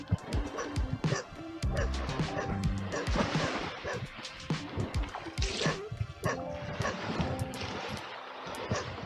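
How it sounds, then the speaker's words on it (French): Several wild dogs bark and yip repeatedly, some near and some farther off, over a noisy outdoor background in Djerba with a few faint voices. "Encore des chiens sauvages"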